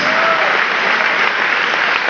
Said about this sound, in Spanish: Den un aplauso al Señor Jesucristo, hermano.